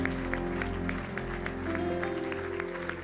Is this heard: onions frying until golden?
no